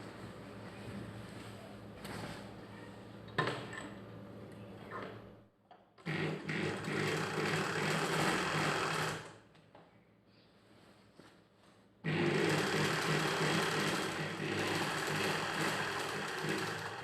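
A sewing machine stitches a reinforcing seam at a joint of a child's pattu langa (silk skirt). The motor clatters in three close runs with short pauses between them, and there is no talk.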